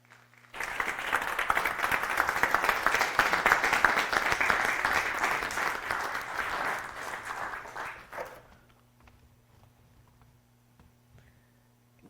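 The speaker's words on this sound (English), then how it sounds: "Please help me give a big round of applause now for our State Auditor, Diana DiZoglio." An audience at a talk on women and NDAs in the workplace applauds the state auditor's introduction. Dense, steady clapping runs for about eight seconds, then stops abruptly, leaving a quiet room.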